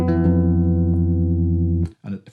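Bass guitar playing a short lick, a sustained low note with rich ringing overtones for nearly two seconds, then a brief quieter note after a short gap, close and loud.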